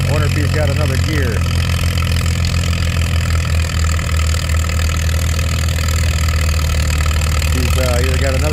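A Farmall M tractor engine lugs under heavy load during an antique tractor pull, a steady deep drone running throughout while an announcer talks over it.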